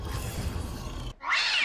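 A cat meows in the video game Dauntless, a single bright, close cry rising near the end after a stretch of low, rumbling game noise.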